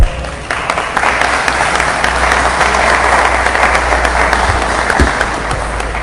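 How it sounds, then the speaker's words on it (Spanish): Sustained applause from a large audience, steady and loud throughout with no pauses. "Un aplauso, por favor."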